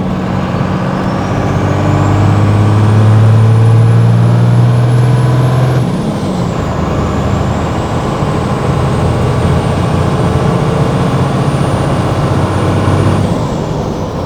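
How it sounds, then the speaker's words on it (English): A 5.9 Cummins diesel truck engine with 3K governor springs and a cold air intake pulls hard and loud, revs climbing with a whistling whine, dropping at a shift, then building again before easing off. "Those 3K governor springs combined with that Speelab cold air intake make it sound amazing."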